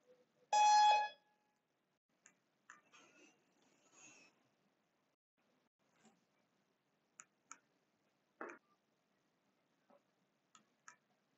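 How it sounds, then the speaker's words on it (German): A workout timer being set for a CrossFit class gives one loud beep at the start, followed by faint scattered ticks and short clicks in a quiet room. "Gut, dann stelle ich uns jetzt gleich noch unseren Timer ein."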